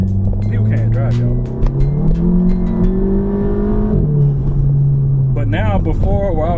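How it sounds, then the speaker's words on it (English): A VW MK7 GTI with an Injen intake on its EA888 engine accelerates up through the revs, its droning engine note climbing steadily from inside the car, then dropping briefly near the end before rising again. "just to get the car to accelerate the way I wanted it to"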